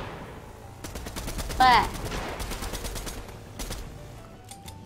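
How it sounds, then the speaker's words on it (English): Rapid bursts of gunfire from the video game Fortnite crackle in quick volleys across the clip, loud and close, with a player briefly speaking over the shots. "I hear gunfire, but I don't see gunfire."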